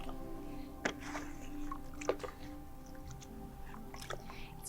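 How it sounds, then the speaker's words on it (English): A brush stirs water and plaster together into a thin, watery mixture, making quiet wet squishing and dabbing strokes with a few sharper taps against a low background hum. "I'm going to pick up my brush and I'm going to mix that water and the plaster"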